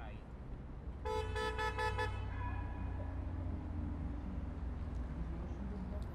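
Several car horns honk in quick succession in Brussels street traffic, a cluster of short toots over the rumble of traffic, followed by ongoing engine noise.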